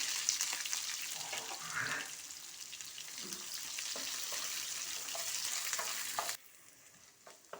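Onions frying in oil in a pan for a capsicum and cucumber curry, with a steady loud sizzle and crackle and faint stirring, dropping to a quieter hiss near the end.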